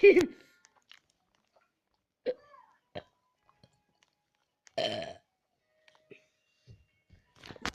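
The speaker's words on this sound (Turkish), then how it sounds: "konuşarsam geğirerek konuşurum" Several short, loud burps pop out of near silence at irregular intervals, with one longer throaty belch in the middle, amid faint chewing-like clicks in a quiet room.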